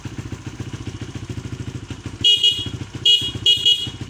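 A Kawasaki KLX150S motorcycle engine idles with a steady chug, then a shrill horn honks twice, loud and close over the running motor.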